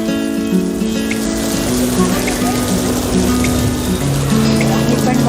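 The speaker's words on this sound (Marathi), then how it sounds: "फायनली पाऊस आलेला आहे." Steady rain falls outdoors along a Mumbai street, a continuous dense patter with scattered drips, while vehicle hum and a faint voice sit underneath.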